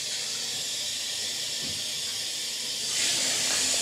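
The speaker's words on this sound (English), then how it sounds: "Running the bath." Water runs into a bath at home as a steady, rushing hiss that holds evenly and grows louder in the last second, with no voices.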